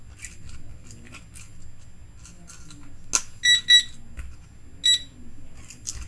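A few short electronic beeps ring out over quiet rustling and scraping, arriving in small clusters rather than a steady rhythm.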